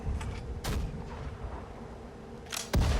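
Artillery fires in the Sudden Strike 4 war strategy game during the Siege of Leningrad, a few sharp booming blasts spaced apart, one early and a heavy pair near the end, over a low rumbling battle bed.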